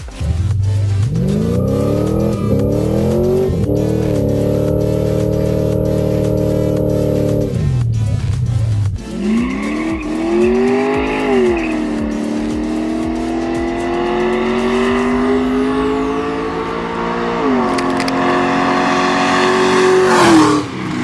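A 1998 Camaro Z28's V8 idles with a high whine, then drives off and revs through rising and falling pulls, loud and up close throughout.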